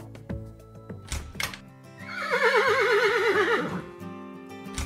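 A horse neighs in a farm stable, a long wavering whinny rising over soft background sounds and fading off, preceded by a couple of short thumps.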